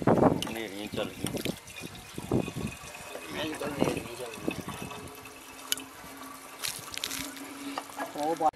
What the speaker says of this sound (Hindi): यहाँ पे हम पानी डाल रहे हैं पानी निकालने के लिए।